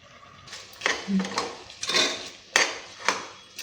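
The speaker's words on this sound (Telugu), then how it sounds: "ఇలా మధ్య మధ్యలో సిమ్లో పెట్టేసి ఇలా తిప్పుతా కలుపుతూ ఉండాలి" A spoon scrapes and knocks against a pan while stirring a chana dal and jaggery filling for Telugu purnalu, irregular clinks and scrapes spaced a second or so apart, close, with talking in between.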